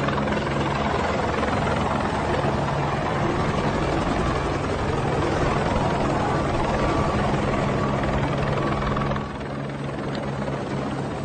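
A helicopter engine and rotor run steadily and loudly throughout as the aircraft sets down, with a slight drop in level near the end; no talking.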